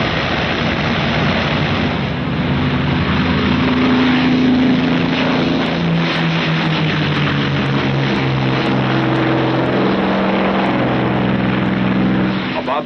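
Engines of WWII bomber aircraft in 1945 drone steadily in flight, a loud, continuous low hum with pulsing propeller tones lasting throughout, overlaid by a narrator's voice.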